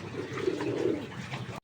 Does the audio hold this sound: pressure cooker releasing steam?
no